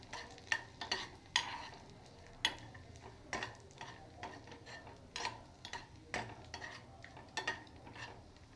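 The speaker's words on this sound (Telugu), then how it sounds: "దీంట్లో డ్రై ఫ్రూట్స్ వేసి ఫస్ట్ వేయించుకుందాము." Almonds and other dry fruits fry in ghee in a pan for a poha prasadam, quietly, with light crackle and repeated clicking knocks of stirring at an irregular pace and no speech.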